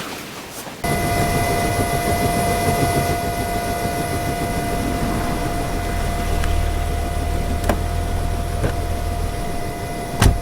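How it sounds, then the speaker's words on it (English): Steady drone of an airplane engine running close by, a continuous loud roar with a low rumble and a few brief clicks, no talk over it. "Get the plane ready. We're getting out of here."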